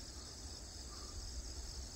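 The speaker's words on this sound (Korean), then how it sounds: "이제 제법 가을이 되니 귀뚜라미 소리가 엄청도 많이 들립니다" Crickets chirp in early autumn after a burst of rain, a steady high, shimmering trill that runs unbroken through the whole stretch at a moderate distance, with no voices.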